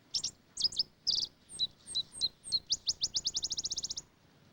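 A Botteri's sparrow sings a loud, high song: a few varied chirps and slurred notes, then an accelerating trill of rapid repeated notes, heard clearly against quiet background.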